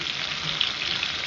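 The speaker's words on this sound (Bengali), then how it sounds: "তো একে একে আমি ফিশ ফ্রাইগুলো ভেজে নেবো।" Amudi fish fry pieces frying in oil make a brief, even, close sizzle with a faint crackle or two, with no voices.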